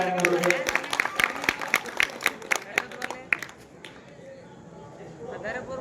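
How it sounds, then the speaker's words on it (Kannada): An audience at a Shree Kalidasa HPS school play applauds with quick, scattered claps that are fairly close and loud for about three seconds, then thin out and fade to quiet room noise. "ಅಲ್ಲಿ ಚಪ್ಪಾಳೆ"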